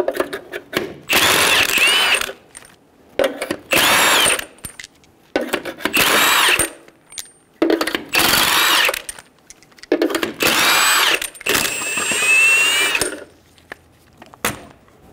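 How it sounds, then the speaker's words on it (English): Impact wrench zipping off the six front wheel lug nuts with a 21 mm socket on a 2005-2010 Toyota Tacoma, six loud, close bursts separated by short pauses. "remove the 6 lug nuts."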